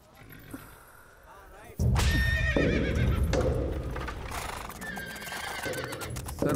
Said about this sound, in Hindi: वो वाला घोड़ा आगे चलेगा